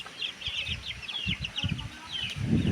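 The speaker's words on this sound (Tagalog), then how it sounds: "So dito maraming mga manok mga idol" Chickens cluck at a breeder's farm, with short clucks and low thumps close by, bursts of bird calls above, and a louder rustle near the end.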